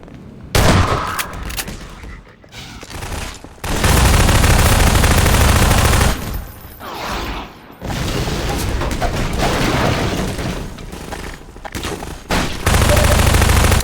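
Gunfire in the game Half-Life: Lost Coast comes as long loud sustained bursts of rapid automatic fire broken by short pauses, booming and dense throughout, with no talk.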